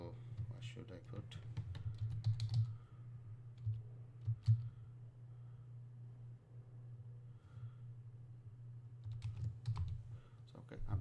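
Someone types a password on a computer keyboard while signing up as an Uber driver in London. The keys sound in quick bursts of close clicking, and a low steady hum runs underneath.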